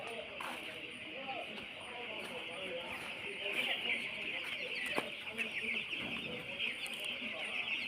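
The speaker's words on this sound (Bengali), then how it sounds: "দেখতে পাচ্ছেন একটি ফাতিলের মধ্যে অনেকগুলো মুরগি খাবার খাচ্ছে" Fifteen-day-old broiler chickens on a poultry farm in Kishoreganj, a crowd of birds feeding together, giving off a steady dense chorus of clucks and chirps at moderate distance with no talk.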